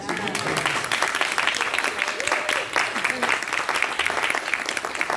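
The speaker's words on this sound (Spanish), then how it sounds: "Esperaba aunque sea un aplausito así." Applause from the audience at a church service on marriage: steady, dense clapping from many hands fills the whole stretch, with voices faintly audible beneath.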